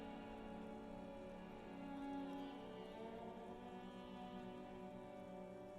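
Rain in the video game Disco Elysium, a steady, soft wash of falling rain beneath a hum of ambient tones, faint and continuous with no talking.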